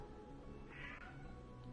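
A pet cat gives a single drawn-out meow partway through, close and fairly clear over a steady low background hum.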